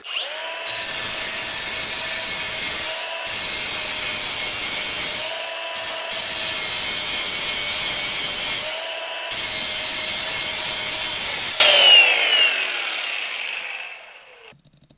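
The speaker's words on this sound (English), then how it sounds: "Maybe I'll grind a little bevel here." A carbide or diamond grinding wheel grinds a bevel, giving a loud, steady abrasive rasp in several long passes with short gaps between. A final burst ends in a fading, high-pitched whine as the wheel spins down.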